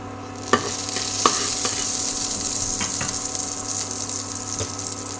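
Panch phoron spices sizzling in about half a teaspoon of hot oil, a steady close hiss with a few sharp spoon taps and scrapes against the pan.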